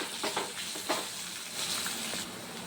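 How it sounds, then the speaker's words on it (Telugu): Onions and ginger fry in oil in a pan, giving a steady close sizzle with soft crackling pops throughout. "ఆయిల్ నుంచి మగ్గేదాకా వేయించుకోవాలి."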